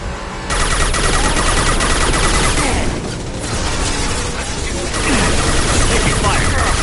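Sustained automatic gunfire and heavy combat effects from the video game Mass Effect 2 Legendary Edition, loud and dense throughout with a brief dip midway, while a voice speaks over the battle.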